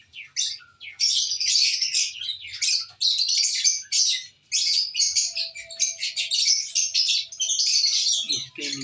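A pair of albino red-eye and decino lovebirds chirps close by in rapid, busy bursts of high tweets and squawks that run almost without a break, loud and with no talk.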